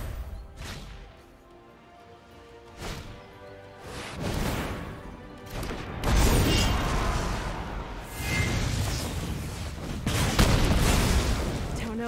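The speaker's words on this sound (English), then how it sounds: "Check out these fireworks!" Fireworks play as an effect during a Magic: The Gathering Arena Historic match between Jeskai Truths and Mono Red Aggro. Bursts of crackling booms and pops come in irregular waves over twelve seconds and grow denser and louder toward the end.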